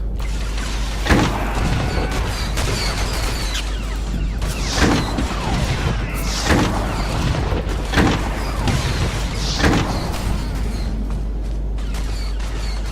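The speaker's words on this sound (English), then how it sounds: "I'm quite impressed with the explosive shot" Explosive shot blasts in the Star Wars The Old Republic video game, repeated sharp booms and crashes every second or two over a constant low rumble of combat noise, no talking.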